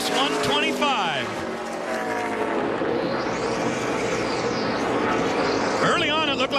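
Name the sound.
ARCA race car driving through the final lap at Pocono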